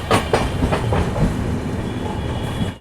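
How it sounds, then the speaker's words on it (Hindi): The Jasidih–Vasco Weekly Express pulls away from Madhupur station, its loud, close rumble broken by a few sharp wheel clatters over rail joints before settling into a steady rolling roar. "मधुपुर से हमारी ये ट्रेन रवाना हो चुकी है।"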